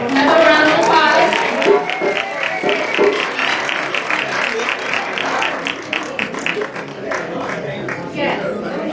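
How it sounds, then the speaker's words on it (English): Guests at a Black History celebration reception clap together in a steady run of applause, loud and close. People talk and call out over the clapping. "Another round of applause."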